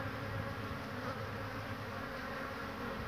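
Honey bees buzzing steadily around a hive, a faint, continuous drone with no pauses and no voices.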